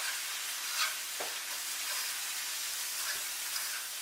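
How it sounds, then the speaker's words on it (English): Drained corn and peppers sizzle and crackle softly in a hot pan, with a quiet, continuous frying hiss and a few stirring scrapes. "frying the corn"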